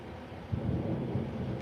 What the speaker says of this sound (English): Did y'all just hear that thunder?